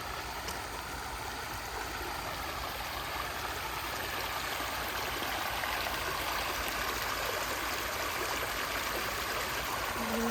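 Stream water flowing at a campsite before a typhoon, a steady, faint rushing and trickling wash that continues evenly with no voices.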